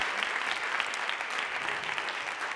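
Audience applause fills a comedy show venue, a dense, steady wash of many hands clapping at close range, loud and unbroken throughout with no voices over it.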